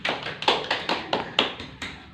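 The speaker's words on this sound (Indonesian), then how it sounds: "Tepuk tangan dulu untuk Raza" Small classroom group clapping briefly during a microteaching lesson, a few loose, uneven claps close by that fade after about two seconds.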